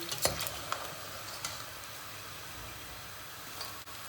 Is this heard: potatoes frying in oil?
yes